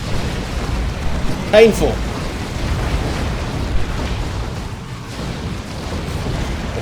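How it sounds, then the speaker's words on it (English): Dark Reaper Exarch launchers firing in the strategy game Dawn of War 2, heard as one short, sharp blast amid a steady battle rumble, with someone talking over it. "We now have some Exarchs for the Dark Reapers. They have much fancier launchers."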